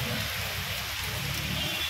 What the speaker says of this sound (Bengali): এই যে বৃষ্টি পড়ছে, একবার জোরে আসছে একবার আসতে হচ্ছে